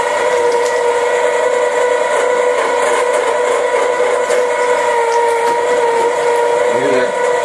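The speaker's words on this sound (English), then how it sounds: "You hear that knife and plate squeal there." A meat grinder's knife and plate squeal continuously while grinding sausage meat for snack sticks, a loud, sustained high-pitched whine with steady overtones over a low mechanical rumble.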